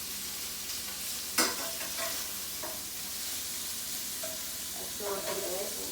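Italian sausage browns in a pan with an even, moderate sizzle, a single sharp clink as it is flipped and a few soft scrapes later on.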